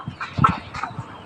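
A young farm chicken chick gives a few soft, short cheeps and clucks close by, scattered over a quiet background at a home.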